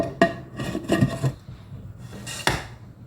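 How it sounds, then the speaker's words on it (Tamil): A pressure cooker lid goes onto a pot of coconut milk rice, left without its weight: a few sharp clanks and scrapes of metal, near and fairly loud, spread over a few seconds with quiet gaps. "குக்கர் மூடியை போட்டுக்கிறேன்"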